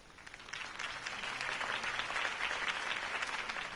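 A crowd applauds after Harvey Dent's campaign speech, with dense, sustained clapping that swells and holds at a moderate distance.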